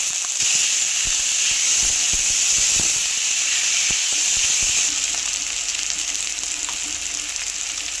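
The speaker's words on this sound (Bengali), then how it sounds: "এবার আলুটাকে একটু ভালো করে ভেজে সিদ্ধ করে নিতে হবে" Potatoes sizzle steadily in hot oil with browned chopped onion, a constant bright hiss with small pops and crackles, close and alone without talk, for stuffed Kashmiri aloo dum.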